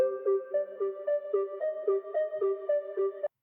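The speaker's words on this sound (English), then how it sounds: "I used a lead sound for that" A synth lead plays a bright, repeating melodic phrase in an FL Studio Afro-style beat, each note plucked in a steady, bouncy rhythm, loud and alone without any talk.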